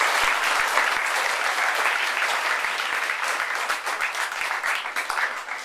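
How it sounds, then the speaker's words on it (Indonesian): Sustained applause from a crowd at a Catholic school Mass, dense and steady clapping throughout with no talking over it. "Kita beri tepuk tangan untuk semua yang sudah bertugas"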